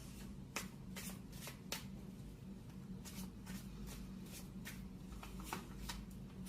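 Tarot cards are shuffled by hand in repeated crisp riffles and soft slides against a low background hum, close by and fairly quiet.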